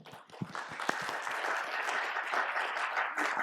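Audience applause at an award ceremony during a quantum computing summit session, a dense wash of clapping that swells after a few scattered claps and keeps going steadily.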